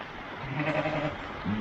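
A sheep bleats in a drawn-out, wavering call, followed by a second shorter bleat starting, close by over a low outdoor background.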